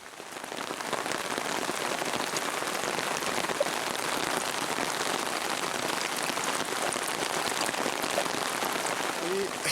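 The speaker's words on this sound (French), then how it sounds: "comme vous l'entendez, c'est le déluge" Heavy rain pours steadily on a bivouac camp, a dense hiss of drops drumming on a surface close by, continuous and loud throughout.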